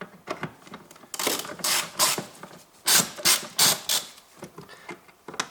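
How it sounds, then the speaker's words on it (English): A wrench loosening a 10 mm bolt on a 2002–2009 Toyota Prius while changing spark plugs, giving a series of harsh rasping, scraping strokes in uneven bursts, loud and close with no talking. "And now I take my wrench that I can open this."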